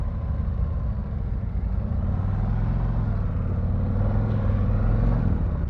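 A 2023 Harley-Davidson CVO Street Glide motorcycle rumbles steadily at close range as it pulls away, its deep engine drone holding loud and even throughout, with no voices.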